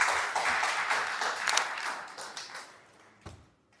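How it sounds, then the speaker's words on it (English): An audience claps for a speaker at a talk on AI startups and venture funding, a burst of applause that thins out and fades over a few seconds, ending with a single stray clap. "Everyone, please give a round of applause to Milly Wang"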